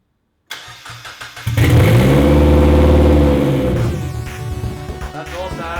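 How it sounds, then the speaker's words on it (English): A turbocharged or supercharged car engine cranks and fires up after a moment of silence, then revs hard and loud with a raw, rally-car-like exhaust bark before settling into a rough idle. "As mad as it would be to drive around in something that sounds like a Group A rally car"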